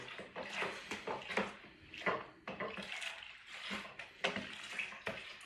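Homebrew Young's Harvest Stout being stirred with a perforated stirring stick, giving repeated sloshing, splashing liquid swishes in an uneven rhythm, close and moderately loud with no talking.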